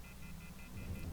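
A telephone left off the hook in the video game The Wolf Among Us emits a repeating electronic tone, short beeps pulsing at an even rapid rhythm over a low background hum.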